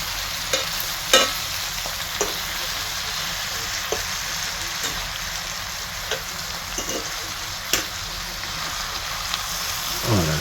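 Garlic frying in a pot for a chicken thigh stew, a steady close sizzle with occasional light scrapes and taps from stirring, fairly quiet and continuous.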